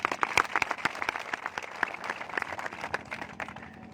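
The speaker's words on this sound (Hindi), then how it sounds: "जोरदार तालियां।" Crowd clapping at an outdoor political rally in Rupnagar, Ajmer, a lively close burst of many hands with sharp individual claps standing out, no speech over it.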